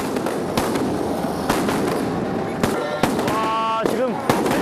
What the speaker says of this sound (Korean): 마을에선 폭죽을 터뜨리며 막 도착한 여신 행렬을 열렬히 환영합니다.